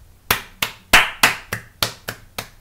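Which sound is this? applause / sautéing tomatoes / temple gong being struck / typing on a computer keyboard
applause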